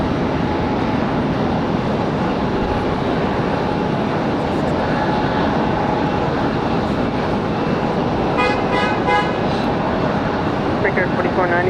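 An airplane's engines roar steadily and loudly at Raleigh-Durham International Airport around a runway 23 right takeoff, a constant broad rumble with voices heard faintly over it.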